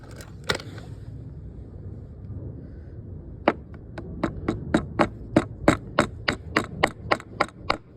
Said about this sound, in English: I'm going to put the phone down so I can hammer it in place.